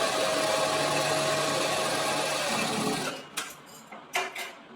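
A sewing machine stitches a flat fell seam on fabric in a steady, continuous mechanical whir for about three seconds, then stops, leaving a few brief fabric handling sounds and quiet room tone.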